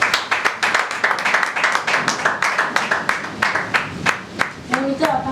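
Congregation in a church service gives loud applause for the Lord, dense rhythmic clapping close by for several seconds with voices calling out over it near the end.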